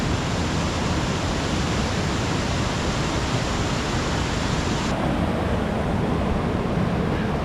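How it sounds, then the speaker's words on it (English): Cascade Falls, a Colorado waterfall, roars as a dense, constant rush of falling water that stays close and loud throughout, with no voices. "This is pretty sweet though. It's called Cascade Falls."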